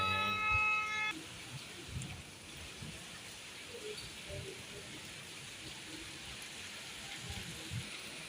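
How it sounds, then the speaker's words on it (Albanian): Steady rain falls as a constant broadband hiss, moderately faint. A brief electronic beep tone sounds at the very start. "It's raining today."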